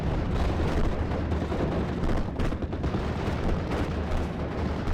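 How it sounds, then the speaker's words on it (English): Rifles and an M4A1 fire in the Steel Division: Normandy 44 game as a dense, rumbling mix of shots and distant artillery-like booms, steady and loud throughout. "my Fallschirmjägers getting pinned down due to the sheer amount of rifles and the M4A1 firing into my position"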